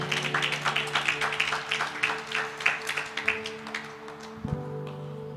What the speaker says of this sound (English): Give the Lord a clap offering.